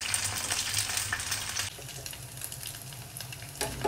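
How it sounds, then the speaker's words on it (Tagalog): Food sizzles and crackles steadily in a hot pan as it fries until toasted, with fishballs in the mix; the noise is close, continuous and dense, with no talk. "Iprito na nga natin yan ng sabay-sabay."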